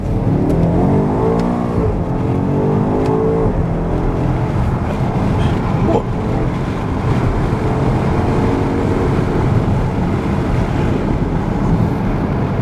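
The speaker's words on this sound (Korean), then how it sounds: "소리가 엄청 잘 들어오네요. 이 배기 소리." A BMW X5 M xDrive Competition's deep exhaust note rises steadily as it accelerates, loud and continuous, heard from inside the cabin with a window slightly open and road rumble beneath.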